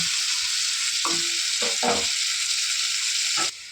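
Hilsa fish pieces coated in salt and turmeric fry under a lid, giving a steady close hiss with a few brief scraping clinks partway through before the sound drops off.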